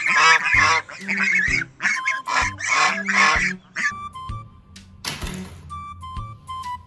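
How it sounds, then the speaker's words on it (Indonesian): A goose honks repeatedly, loud and close, in a burst of harsh calls followed by softer intermittent tones. "Angsa."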